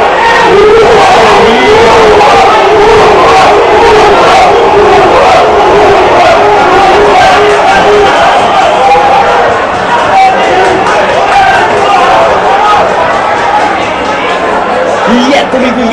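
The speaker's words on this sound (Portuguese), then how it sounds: "a torcida se manifesta" Football fans at a Formosa versus Taguatinga match keep up a continuous roar of crowd noise and chanting, while a commentator talks over the stadium din throughout.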